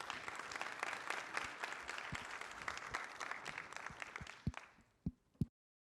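An audience applauds to welcome speakers to the stage at a tech conference. The clapping is steady and fairly distant, then thins to a few last claps before silence.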